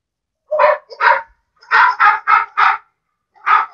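A computer toy dog plays a recorded barking sound: seven short, loud electronic barks in uneven bursts, close and clear with no talking over them.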